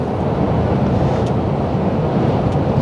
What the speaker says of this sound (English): It's getting a bit windy out there.